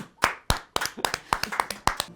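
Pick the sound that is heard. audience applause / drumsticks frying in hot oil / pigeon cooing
audience applause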